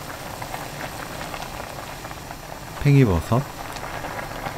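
Pot of burdock and mushroom soup with perilla seed powder and enoki mushrooms simmering at a steady bubbling boil, faint and continuous, with a voice briefly speaking over it near the end.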